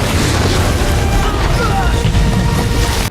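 Explosions tear through a Shaolin temple in a kung fu film, producing a loud, continuous wall of rumbling blasts and booms with a voice speaking over them.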